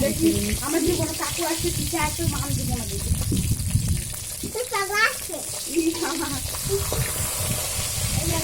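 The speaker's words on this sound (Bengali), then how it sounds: "এই তো মাছ ভাজা হচ্ছে, মাছ ভাজা হয়ে গেছে" Fresh pond fish, including bata and rohu, fry in a pan with a crackling sizzle, close by, broken up by stirring clatter and water sounds while someone talks over it.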